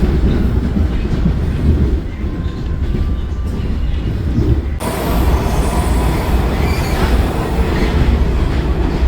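A Washington DC Metro train rumbles along the tracks toward Branch Avenue, loud and continuous from inside the car, with wheel noise and a sharp shift in tone midway as the ride carries on.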